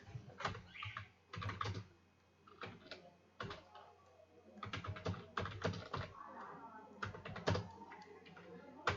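Typing on a computer keyboard while writing game code for a jump using the space key: bursts of close, crisp clicks in irregular clusters with short pauses between them.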